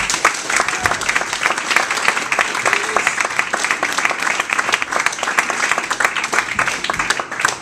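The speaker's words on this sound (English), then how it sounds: "please applaud Joshua Steinberg" Bar audience at a stand-up comedy show in Turku, Finland gives loud, sustained applause, thick and even from start to finish with scattered sharper claps.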